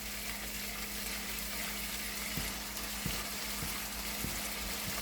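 Ingredients for a black kidney bean curry sautéing in a pan: a constant, even sizzle with soft intermittent taps of stirring, close and steady throughout with no voices.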